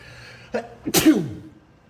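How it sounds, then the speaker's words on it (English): A single close sneeze: a short intake of breath, then one sharp, loud burst that trails off quickly in a quiet room. "I gotta sneeze."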